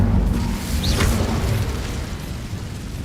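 Incendio fire spell cast in Hogwarts Legacy, a single whooshing burst of flame around the one-second mark that settles into a lingering low roar and rumble, fairly loud with no talking.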